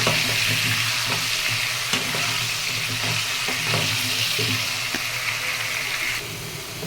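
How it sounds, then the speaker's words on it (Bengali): Potatoes coated with salt and turmeric fry in hot oil with a steady, loud sizzle that never lets up, while a spoon scrapes and stirs now and then. "নুন হলুদ দিয়ে ভালো করে আলুটা লাল লাল করে ভেজে নেব"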